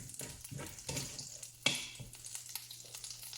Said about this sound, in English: Once you hear that crispness, you know your oil is ready.